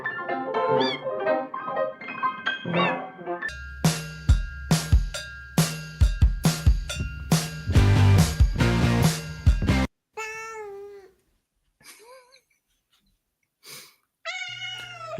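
Cats meow repeatedly, loud and close, in a run of short rising and falling calls, then a few more drawn-out meows after a brief pause.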